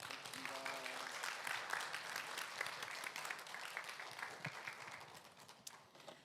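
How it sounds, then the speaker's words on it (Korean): An audience at a humanities concert-lecture applauds to bid farewell to Professor Hosaka Yuji, steady clapping that fades slightly toward the end, fairly quiet and distant. "큰 박수로 우리 교수님과 인사하시길 바랍니다"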